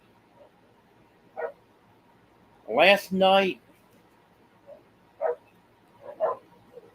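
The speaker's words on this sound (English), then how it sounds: "He barks for no reason." A dog barks in short sharp bursts, one double bark standing out loudly among fainter yips spread through the stretch, with a person speaking briefly at the start.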